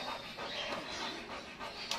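Labrador or Golden Retriever panting steadily at close range, quick rhythmic breaths repeating through the clip with no talking.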